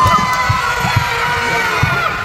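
Children and adults in a large arena crowd at a live Blippi musical show cheer, yell and stomp, a loud sustained roar with rhythmic low thumps of stamping feet underneath.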